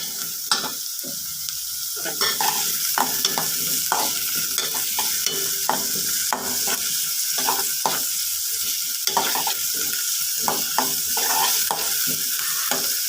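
Green chillies and onion frying in a pan for a Kerala banana stem curry, a continuous loud sizzle broken by regular scraping strokes of a spoon stirring, close up and without talk.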